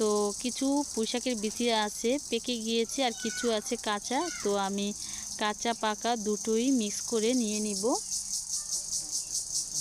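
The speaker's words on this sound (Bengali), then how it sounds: "আর চারপাশে কিন্তু ঝিঝি পোকা ঝিকঝিক করতেছে বন্ধুরা" Crickets chirp all around an outdoor garden, a steady high shrill drone that continues throughout beneath a person speaking close by.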